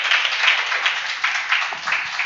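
Seminar audience applauding together at a business school session, bright, close clapping in brief swelling waves that rise and dip over a couple of seconds with no talk.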